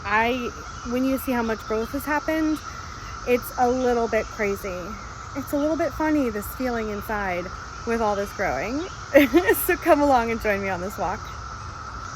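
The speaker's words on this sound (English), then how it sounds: "the sound you hear are the cicadas" Periodical cicadas in a garden keep up a continuous high droning chorus throughout, steady and fairly loud beneath a person talking almost nonstop.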